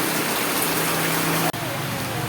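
Steady rain pours down with a dense hiss, close and continuous, while a voice murmurs faintly underneath.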